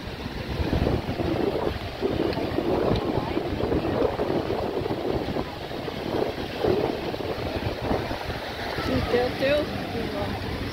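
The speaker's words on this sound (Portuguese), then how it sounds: "Muito vento aí, né, pessoal?" Strong wind buffets the microphone at the seaside in Balneário Camboriú as a steady, loud rushing roar that continues unbroken throughout, with a faint murmur of people underneath.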